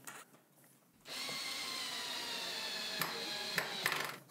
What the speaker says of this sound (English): then just drive that screw all the way through into the timber